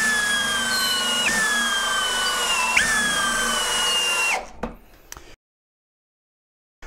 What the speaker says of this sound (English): We're going to drill into this brick for 10 seconds